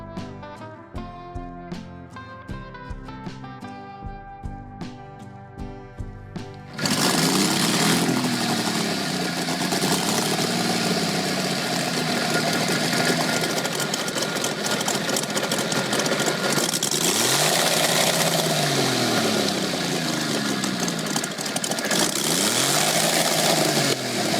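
A motorcycle with an aviation engine runs steadily and roars, its pitch rising and falling as it revs, preceded by a quieter rhythmic mechanical clatter.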